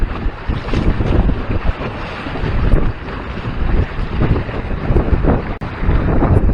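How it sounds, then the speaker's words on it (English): Strong wind buffets the microphone aboard a trimaran sailing from Lorain to Cleveland on choppy water, a loud continuous roar mixed with rushing water and no speech. "The wind started picking up"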